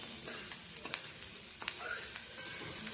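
Onions fry in hot oil in a home kitchen, a soft continuous sizzle with scattered pops and the scrape of stirring, quiet and close.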